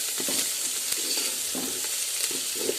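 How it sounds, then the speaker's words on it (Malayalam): Sliced onions with salt sizzle steadily in a hot pan while a spoon stirs them, the scraping strokes recurring in an irregular rhythm over a constant frying hiss, close up and with no talking. "ഇനി ഇത് വീണ്ടും നന്നായിട്ട് ഇളക്കി വഴറ്റിയെടുക്കും"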